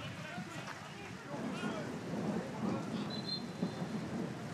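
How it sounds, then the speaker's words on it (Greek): Torrential rain pours down during a football match in a stadium, a dense steady hiss with occasional low rumbles, heard under a commentator's talk. "Είναι καταρακτώδης η βροχή και δύσκολες πια οι καιρικές συνθήκες"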